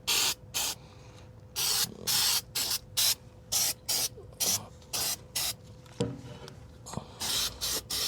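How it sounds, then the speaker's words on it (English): Cold galvanizing compound is sprayed from an aerosol can onto a boat trailer axle in a series of short, loud, close hissing bursts separated by brief pauses. "We're going to coat this now with some cold galvanizing compound."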